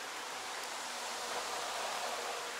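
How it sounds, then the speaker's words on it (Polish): Rain falling during a fishing trip for pike, a dense, steady hiss of drops that stays even and close throughout, with no voices. "A więc cały czas pada, grzmi."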